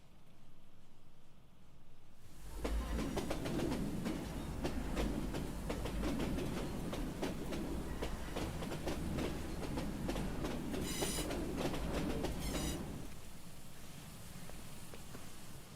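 A video game train passes, a loud, sustained rumble with rhythmic clickety-clack wheel beats and brief squealing midway, building in and fading away over about ten seconds, without speech.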